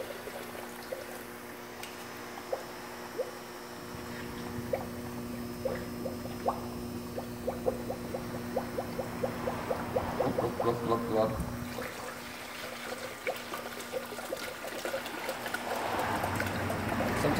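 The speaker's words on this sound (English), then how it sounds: "I'm just putting water in it now because we know it's leaking somewhere." Water is poured into the cooling system of a leaking 2010 Ford F150, giving a steady close trickling and gurgling pour with small splashes, while someone talks quietly at times.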